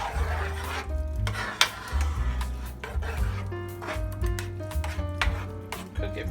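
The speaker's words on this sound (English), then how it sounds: "So let's stir it up." A spoon scrapes and rubs repeatedly through a simmering chicken divan casserole in a pan, with a steady rasping rhythm close up under soft background music.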